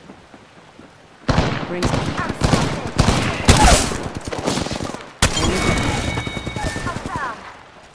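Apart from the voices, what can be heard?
gunfire shots at the player in a video game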